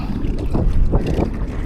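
Strong wind gusts outdoors during ultralight jig fishing and buffets the microphone with loud, low rumbling surges that swell and ease in uneven pulses, with no clear talk.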